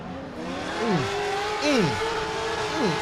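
Drift cars, among them a Magnuson supercharged Corvette, rev hard at Irwindale Speedway, their engines rising and falling in repeated sweeping surges roughly every second, loud and close.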